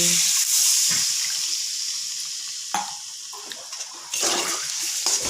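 Water poured into a pan of fried vegetables and lentil dumplings for a Bengali curry, a loud rushing splash that fades, then a second strong pour near the end, with no talking.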